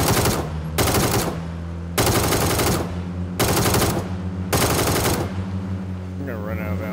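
Automatic weapon fire in the video game PUBG comes in five loud, rapid bursts of about a second each, separated by short pauses.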